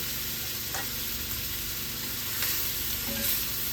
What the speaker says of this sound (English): Just to get a nice sear on them.